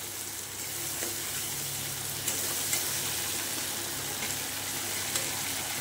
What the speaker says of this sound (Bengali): এই মশলাটা দিয়ে ভালো করে কষে নেব।